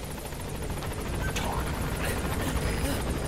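Helicopter arriving in the video game Metal Gear Solid V, a loud, steady rotor thump and engine roar that fills the whole stretch without a break.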